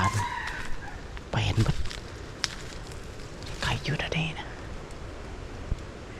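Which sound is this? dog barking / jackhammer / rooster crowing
rooster crowing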